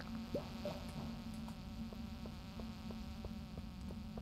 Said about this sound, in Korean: 거의 여름철에 모기처럼 소리도 진짜 역겨워